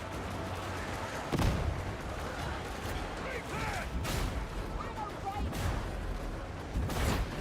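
Gunfire in the video game Darktide, several heavy shots and bursts rising out of a dense rumbling combat din, with voices talking over parts of it.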